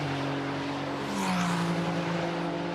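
Ferrari Challenge race cars at Monza pass as a sustained engine drone with a tone that sweeps downward in a Doppler-like pass. The cars sound moderately distant under broadcast ambience, with no voices.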